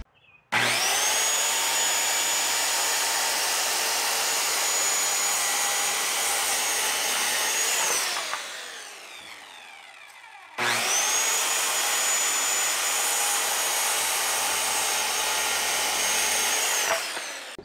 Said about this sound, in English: So I'm going to get the saw.